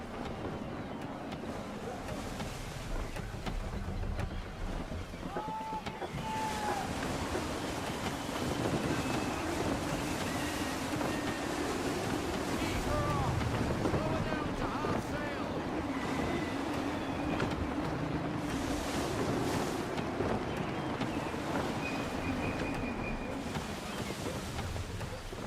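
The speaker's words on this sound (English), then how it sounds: "Gusty winds can be difficult to manage." Gusty wind over the open sea in Assassin's Creed 3, a broad steady rush with wave wash against a sailing ship, continuous and moderately loud, with occasional voices speaking.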